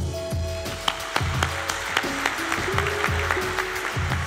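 Applause at the 2014 Schuhkurier Award ceremony for the Schuhkurier and Sternfeld Verlag team: steady clapping from the audience, with a low musical hum and accented claps over about four seconds.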